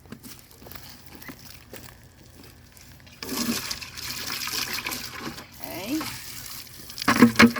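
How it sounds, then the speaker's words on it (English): Water splashing and swirling as a plastic bucket is rinsed out, a loud sloshing rush building in the latter half with a brief spoken word over it. "Let me rinse this one out real quick."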